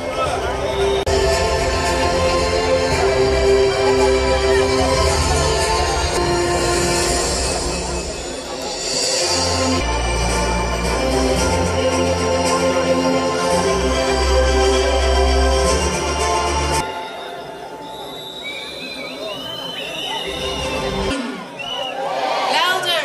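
A graduation crowd cheers and shouts loudly as graduates come onto the stage to toss their caps, a dense roar with whoops and a pulsing low beat that drops away near the end.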